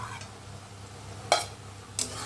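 Red amaranth greens and fried Bombay duck fish stir in a pan, a soft, quiet sizzle under two distinct spatula clanks against the pan, unaccompanied by speech.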